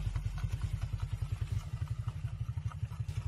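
A scooter's small motor idles and putters in a steady, rapid low pulse, close by, with faint clatter on top.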